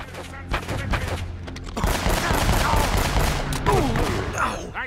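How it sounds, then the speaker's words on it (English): Game gunfire from Uncharted: Drake's Fortune on hard mode: bursts of rapid shots and fusillade clatter run through the whole stretch, loud and close, with a voice talking partway through. "I hear gunfire."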